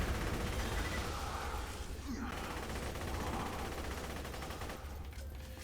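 Rapid gunfire from Maya's Hail gun in Borderlands 2, sustained and loud, rattling continuously across the clip before tailing off at the end.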